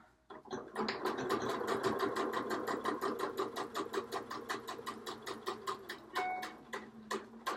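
A sewing machine re-stitching a zipper seam, rapid regular needle strokes running close and fairly quiet, slowing toward the end with a brief pause, no voices.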